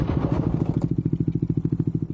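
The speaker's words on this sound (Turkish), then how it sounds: "En sağdan en sola geçen otomobile çarpıp devrilen motosikletli metrelerce sürüklendi." A motorcycle strikes a car and topples, followed by a rapid rhythmic thumping clatter as it slides along the road, loud and close.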